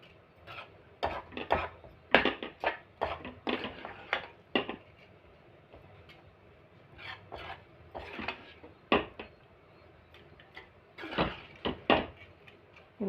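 A utensil scraping and stirring mint rice in a pan, irregular clusters of sharp scrapes and knocks at close range, with pauses between bursts.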